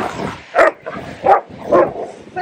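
Bernese Mountain Dog puppies playing together, giving three loud, rough barks spaced about every half second, with snuffling and scuffling between them, close by.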